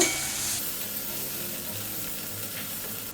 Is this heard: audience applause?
no